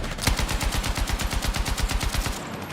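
A light machine gun in a video game fires one sustained rapid burst of roughly twenty evenly spaced shots. The shots are loud and close, and the burst cuts off near the end.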